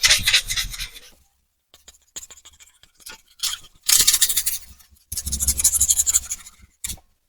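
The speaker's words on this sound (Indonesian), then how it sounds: "Pertama adalah kita amplas ya." Sandpaper, 240 or 320 grit, rubbed over a plastic component before water-based painting: bursts of dry scratchy rasping strokes, close and fairly loud, broken by short pauses with quiet clicks.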